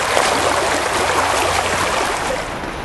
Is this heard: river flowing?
yes